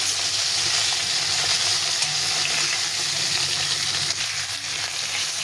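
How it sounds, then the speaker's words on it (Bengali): A whole fish fries in hot oil in a home kitchen, giving a loud, steady, continuous sizzle with a faint bubbling texture and no talking. "পুরো মাছটা দিয়ে দিলাম, ভালো করে ভেজে নিতে হবে।"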